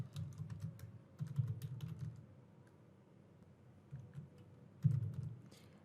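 Fingers typing on a computer keyboard while entering details into a message, soft, quiet clicks in irregular bursts with short pauses between runs, no talking.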